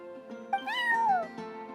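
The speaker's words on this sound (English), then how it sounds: "that's my neighbor's cat" A cat in a video game gives one clear, rising-then-falling meow, close and alone over a faint background tone.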